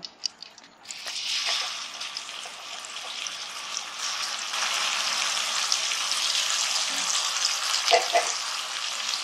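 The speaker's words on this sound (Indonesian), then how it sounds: "Sekarang kita tumis, minyaknya udah panas," Ground chili paste poured into hot oil and sautéed in a pan, a loud steady sizzle that starts abruptly and keeps going, with occasional stirring scrapes.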